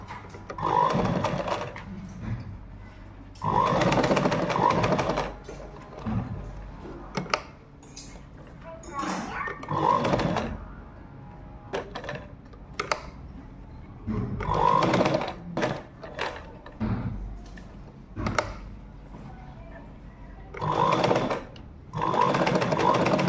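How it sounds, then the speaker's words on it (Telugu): A sewing machine top-stitches a jacket in repeated loud bursts of rapid whirring. A person talks in the pauses between runs. "నెక్స్ట్ వచ్చేసి టాప్ స్టిచ్ చేసుకోవాలి."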